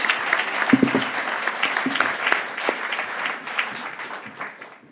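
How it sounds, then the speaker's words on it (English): Audience applause at an awards show, a lively burst of many hands clapping close by with a few sharper claps standing out, gradually tapering off over several seconds. "But a big round of applause for Marc Rochat."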